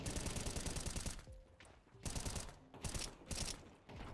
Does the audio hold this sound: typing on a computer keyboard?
no